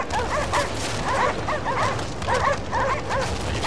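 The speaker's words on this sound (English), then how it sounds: "this is when they start barking" Dogs barking in the video game Cryostasis: a pack of yipping, excited barks comes in repeated clustered bursts over a steady low ambient rumble, with no talking.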